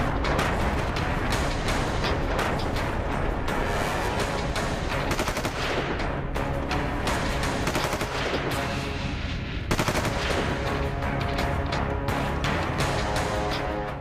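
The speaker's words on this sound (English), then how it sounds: "In one of the fiercest firing in retaliation to Pakistan's ceasefire violation." Heavy gunfire and shelling across the Line of Control during retaliatory firing, a dense, continuous barrage of rapid automatic bursts and booming blasts, loud and relentless throughout with no voices.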